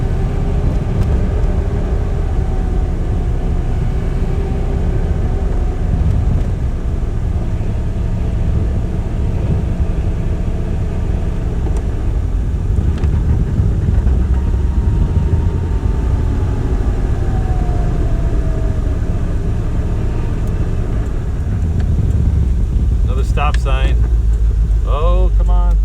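Engine of a 1981 Ford Granada running with a lean misfire, a loud, steady rumble that holds throughout, with a voice heard at times over it.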